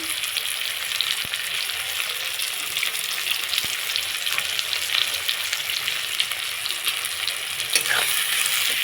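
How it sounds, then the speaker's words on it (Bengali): Grated garlic and onions fry in a wok, a constant close sizzle of hot oil with a few sharp spatula taps and occasional scraping stirs, no voices. "এর সঙ্গে দিয়ে দেবো গ্রেট করা রসুন"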